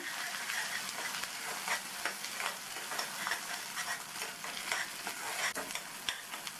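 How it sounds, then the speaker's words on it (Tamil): Ground masala paste sautés in oil in a pan for a peas gravy. A steady sizzle carries repeated close scraping strokes as the paste is stirred, with no talk. "இந்த பேஸ்ட்டை எண்ணெயிலேயே நல்லா வதக்கி விட்டுக்கணும்."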